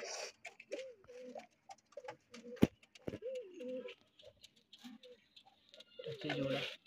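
Pigeons coo in repeated low, throaty rolls at a racing pigeon loft, close and fairly clear, with a sharp clap or wing flutter midway and some background rustling.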